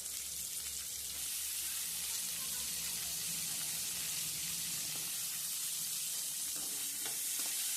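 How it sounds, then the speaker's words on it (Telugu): Green chillies and raw coconut pieces fry in a pan with a soft, continuous sizzle and crackle, a low steady hiss with occasional light stirring clicks and pops. "పచ్చిమిర్చి కొంచెం వేగినాక పచ్చి కొబ్బరి ముక్కలు కూడా వేసేసి అవి కూడా కొద్దిసేపు ఒక ఫైవ్ మినిట్స్ వేగనివ్వాలి"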